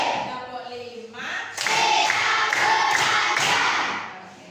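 Rhythmic group hand clapping from a classroom clapping game fills the middle of the clip as a loud series of claps in unison, framed by a voice speaking at the start and a fading tail.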